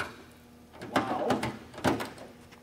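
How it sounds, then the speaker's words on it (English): A light aircraft door is fitted back into place in a hangar during weighing, with a few knocks and scraping bumps, two sharper thumps standing out over a quiet background. "And we're going to put the door back in place."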